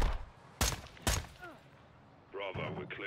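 Gunfire in Call of Duty: Modern Warfare II, two sharp loud shots about half a second apart, then a quieter stretch and a burst of rattling fire near the end, with voices talking over the action.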